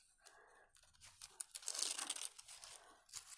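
A cut paper snowflake is gently unfolded, giving soft, close crinkling and rustling that swells in the middle and then fades.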